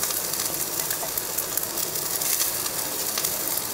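Grated coconut sautéing in a pan for roasted gram chutney, giving a steady, close sizzle and faint hiss that runs evenly throughout with no talking.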